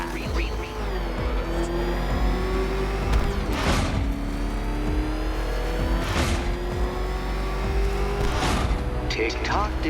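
The Batmobile's engine in Batman Arkham Knight drones and revs loudly throughout, rising in pitch with surges of acceleration and a few tire squeals, while voices talk over it.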